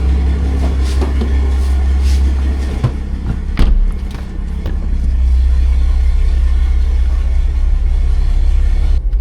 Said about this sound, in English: I might have to rev this shit up a little bit, gang.